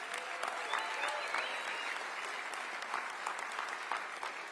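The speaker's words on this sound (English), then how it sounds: "how about another round of applause for our great governor?" Sustained crowd applause fills the hall after a call to cheer for the Texas governor, a dense, steady patter of many hands clapping at moderate distance with no break.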